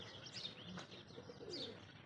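Pigeons coo softly, a few low rolling calls with faint chirps, fairly close against a quiet outdoor background.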